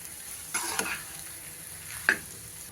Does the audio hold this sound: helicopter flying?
no